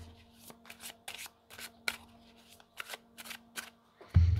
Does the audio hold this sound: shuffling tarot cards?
yes